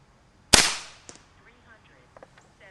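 An FX air rifle fitted with an arrow barrel kit fires an arrow with a single sharp, close crack, followed by a short tail of faint clicks and rustles.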